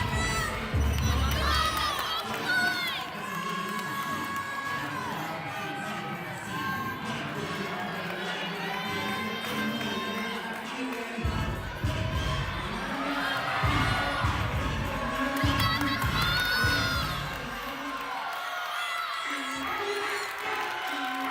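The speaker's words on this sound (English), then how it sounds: "You hear a team cheering her on." At a women's NCAA gymnastics meet, a team cheers on a vaulter with sustained shouts, high-pitched calls and whoops over a busy arena crowd, rising and falling in waves.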